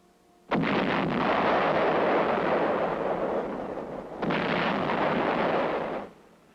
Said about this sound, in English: The 155 howitzer is zeroed in.